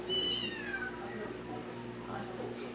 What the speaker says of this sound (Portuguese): olha meu gatinho que nasceu